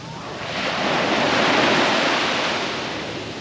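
Ocean surf rolls in at Batu Ferringhi Beach in Malaysia, a broad steady wash of breaking waves that swells louder mid-clip and then eases, with no voices over it.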